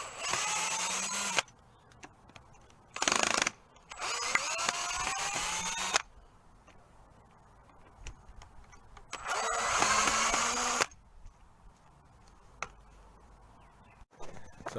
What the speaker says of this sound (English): I'm going to unscrew these.